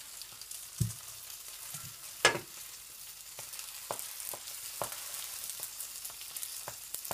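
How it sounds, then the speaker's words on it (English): Bread frying in olive oil inside a waffle maker, a steady soft sizzle throughout with a couple of low knocks and a sharp clack of the lid early on, no talk. "Now roast it until the oil is all it's all gone and making the bread surface really crispy"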